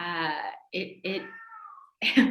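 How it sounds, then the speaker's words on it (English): A house cat meows loudly and insistently during a Zoom call, giving three drawn-out cries close to the microphone, the last one ending in a rough, scratchy burst. "sorry, my cat again, he's a loud participant in all of our Zoom calls"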